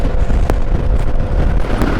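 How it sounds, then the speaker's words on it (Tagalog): Strong wind buffets the microphone during a ride along a mountain road through the Sierra Madre near Paete, Laguna, as a steady, loud, rumbling roar that fills the whole clip without pause. "Lakas ang hangin."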